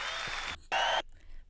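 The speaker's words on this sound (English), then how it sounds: "that got quite a cheer, didn't it?" Studio audience cheering and applauding in two loud bursts, with a brief lull between them and a quieter trailing patter of claps at the end.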